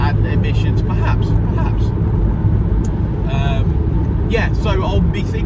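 A Honda Civic Type R FN2 is driven on the road, giving a steady low engine rumble and road noise inside the cabin while someone talks over it throughout.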